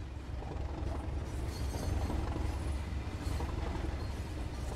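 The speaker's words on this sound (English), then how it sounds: "Some nice squealing on the rails." Train wheels squealing on the rails in the Train Sim World game, a continuous metallic grinding and rattling over a low rolling rumble, steady throughout with no talk.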